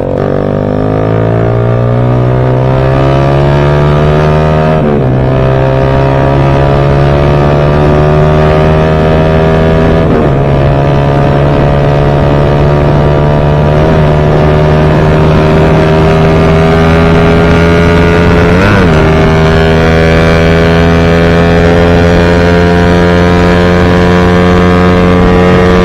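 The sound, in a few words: Raider 150 motorcycle engine revving, 32mm carburetor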